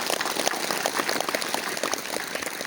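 A large crowd at a Hindi-language public speech applauds loudly, with dense, continuous clapping that fills the space evenly and carries no voices above it.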